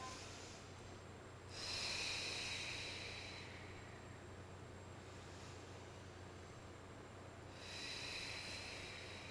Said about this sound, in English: A few deep breaths into that.